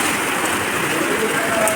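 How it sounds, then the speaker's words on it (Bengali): Heavy rain pours down steadily, a dense, close, unbroken hiss of drops striking surfaces with no pauses and no voices. "কেমন জোরে বৃষ্টি হচ্ছে দেখেছো"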